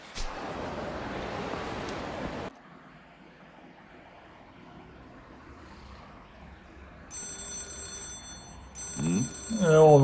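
An old rotary telephone in a 1980s-era game setting rings with a bright metallic bell trill, first in a short burst and then again near the end, over quiet ambient background.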